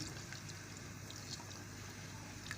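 Flour-and-water paste poured slowly into a pot of simmering chicken nihari, a soft, steady liquid trickle with faint drips against a low kitchen hum.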